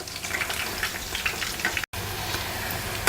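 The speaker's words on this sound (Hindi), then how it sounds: "पकोड़े को हम और क्रिस्प होने तक फ्राई करेंगे।" Cauliflower pakoras deep frying in hot oil until crisp, a close, steady bubbling sizzle with fine crackles throughout and a brief cut of silence partway through.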